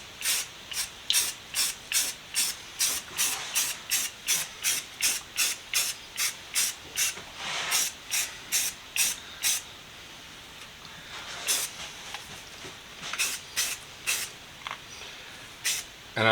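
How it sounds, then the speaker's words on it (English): Etching primer sprayed from an aerosol can onto a vintage Columbian 143 bench vise during restoration, in a long run of short, evenly spaced hissing bursts, fairly close, with a few longer sprays near the end. "I want to get a good layer of primer down. I'm using etching primer."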